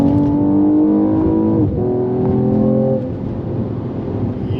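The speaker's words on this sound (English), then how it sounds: "Yep, it's got a pretty mean sounding engine" Mercedes-Benz E53 AMG four-door accelerating hard, a loud, close engine roar climbing through the revs with a clear shift drop partway, then continuing to pull before the pitch falls away.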